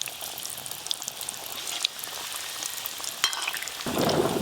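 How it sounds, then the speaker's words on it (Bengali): Khaja pastries deep-frying in lightly warm oil at home, a soft bubbling sizzle with faint crackles and a burst of livelier frying near the end. "এবার আমি খাজাগুলো ভেজে নেব"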